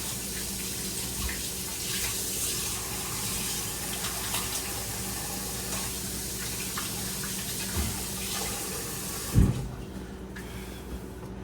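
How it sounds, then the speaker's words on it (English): Tap water runs steadily into a kitchen sink as hands are washed underneath, a continuous close splashing hiss that ends abruptly near the close with a brief clunk of the faucet shutting off, leaving quiet room tone. "I'm gonna wash my hand really quick and stop touching it."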